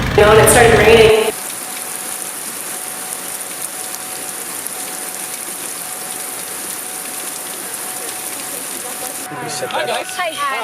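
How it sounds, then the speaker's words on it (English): Rain falls at the scene of a semi-truck wreck on I-70 East as a steady, moderate hiss. A short louder burst at the start is followed by even patter to the end. "it started raining"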